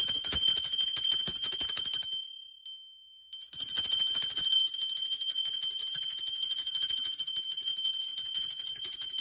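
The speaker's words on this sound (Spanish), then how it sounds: "Ahora sí, va campana." A ringing bell or chime sounds continuously with steady, sustained high tones, briefly dipping quieter for a moment before resuming at full strength, with no voices over it.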